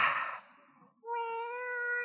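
A cat gives a single clear, drawn-out meow, close and tonal, following a short breathy rustle in an otherwise quiet room.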